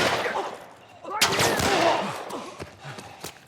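Gunfire in The Last of Us Remake: one sharp, loud shot with a rattling tail, followed by a few smaller clicks and thuds, with a voice faintly present in the background.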